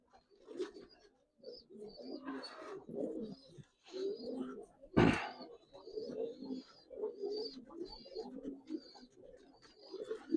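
Colouring Giribaz pigeons at a pigeon farm coo in a run of rolling, repeated phrases, close and fairly clear, broken by a sharp knock midway, with no voices.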